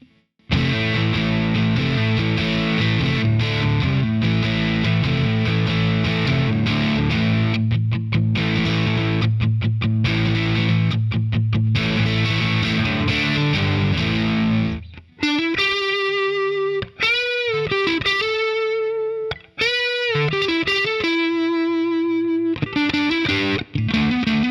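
A budget Strat- or Tele-style electric guitar through heavy distortion plays thick sustained chords with short choppy stops, then turns to gliding, bending single-note lines. It is loud and close, with no talking.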